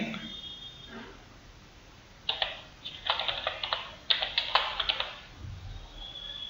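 Keystrokes on a computer keyboard entering a short file name, a quiet burst of rapid clicks followed by a second cluster of taps, close and clear with no voices.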